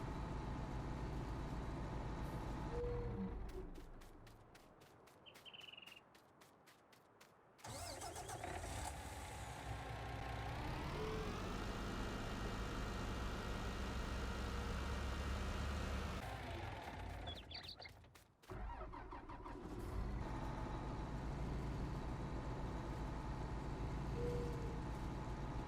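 A truck engine in Farming Simulator 19 cranks several times, catches, and settles into a steady mid-pitched idle that revs up and falls back, then shuts off with clicks before starting again.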